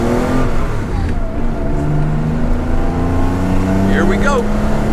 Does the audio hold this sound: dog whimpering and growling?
no